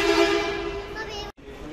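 A Dhaka metro rail train at night gives a loud, steady tonal whine with droning hum, then cuts briefly to silence before resuming at slightly lower level.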